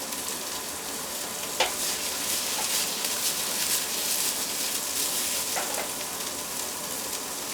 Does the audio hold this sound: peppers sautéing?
yes